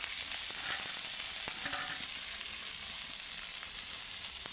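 Onion, green chilli, bay leaf and five-spice seeds fry in hot oil with a constant close sizzle, occasional soft stirring clicks and no talking.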